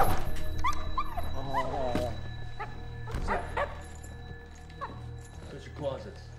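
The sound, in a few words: dog barking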